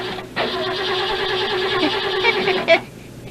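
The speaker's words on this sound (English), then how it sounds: "shut up and start the car" A Model T car engine being started: a churning whirr of the starter runs for a couple of seconds, ends in a brief louder catch, then drops away.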